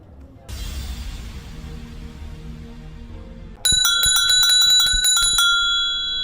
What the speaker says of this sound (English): The original bell of a bicycle.